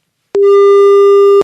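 A phone busy tone sounds on a failed call attempt, one loud steady electronic beep lasting about a second, starting and stopping abruptly, alone and clear.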